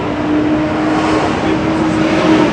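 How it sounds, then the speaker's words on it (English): Loud, steady street traffic on Broadway in Louisville, Kentucky, a continuous close roar of passing cars and engines with a faint tonal hum running throughout, no voices. "we're right on Broadway, so the traffic's awfully loud"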